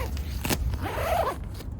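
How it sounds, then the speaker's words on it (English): A tent porch door zip is pulled open, a short close rasping run of the zipper with a brief creak of fabric. "The porchway is 2 zips on either side of the tent for the porchway."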